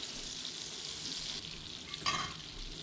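Butter and oil heating together in a hot frying pan give a soft, steady sizzle and hiss throughout, with a brief louder crackle near the end and no talking.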